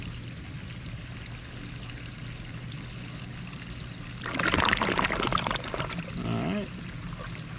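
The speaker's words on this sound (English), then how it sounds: "siphon has been achieved. And there goes all the water." Water draining through a siphon tube, a faint trickle building to a louder rushing pour with gurgling bursts near the end, close by, with a brief word spoken.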